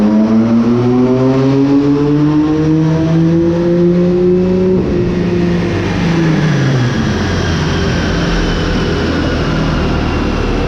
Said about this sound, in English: the car sounds angry, it sounds on point